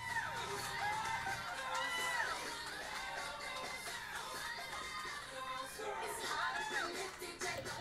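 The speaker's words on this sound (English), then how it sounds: "it looks like a lot of people cheering and getting excited" A large indoor crowd at an election-night victory rally for Arizona's new governor cheers, whoops and shouts without a break, the roar holding steady and loud throughout.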